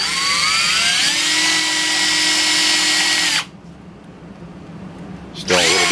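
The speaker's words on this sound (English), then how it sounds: "to release that broken off piece, I just reverse the direction of my drill" Power drill spinning in reverse to free a broken-off blind rivet piece from a rivet adapter, a loud steady whine for about three seconds, then a pause, then a short second burst.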